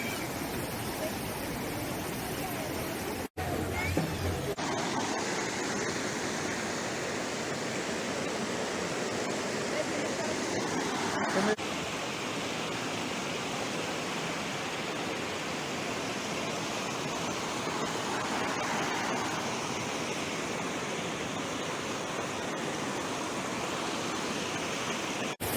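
Chaparai waterfall in the Araku valley rushes steadily, a broad, constant roar of falling water close by, with a couple of brief knocks early on and no other sounds standing out.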